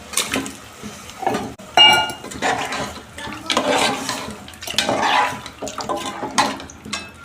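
Rice and bones are stirred in a cooking pot, with close, uneven scraping, clinking and wet sloshing in bursts of varying loudness.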